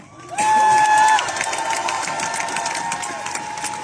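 A crowd at a rally outside Paris's Hôtel de Ville cheers and applauds loudly, with a whistle blowing near the start, then sustained clapping and shouting that gradually eases.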